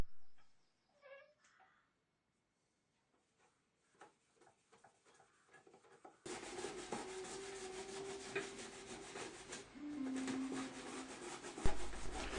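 A painted panel is rubbed back by hand to a flat surface after a key coat, starting with faint scattered scrapes and then becoming steady close rasping strokes for the last six seconds.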